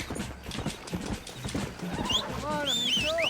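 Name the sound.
horse hooves clip-clopping and whinnying in Red Dead Redemption video game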